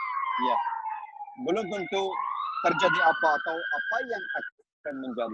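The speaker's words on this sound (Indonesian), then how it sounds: "Suara ambulans, ya betul." An ambulance siren wails steadily in the street below near Hagia Sophia in Istanbul, a rising and falling tone heard clearly beneath a person speaking over it.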